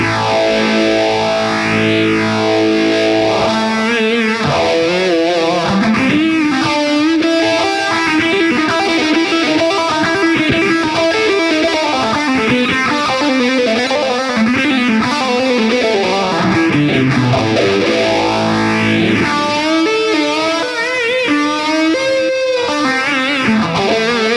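A heavily distorted electric guitar through a Bogner Ecstasy Mini 30-watt head with a sweeping phaser effect and boosted mids, sustained notes and riffs swirling up and down, loud and continuous without any voices.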